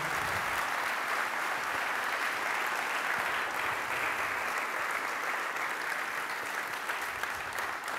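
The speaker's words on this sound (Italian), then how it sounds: "venite qua a prendervi l'applauso che vi meritate" Steady, continuous applause for children at a minibasket clinic in Pieve di Sacco, a dense wash of many hands clapping at even volume throughout, with no voices standing out.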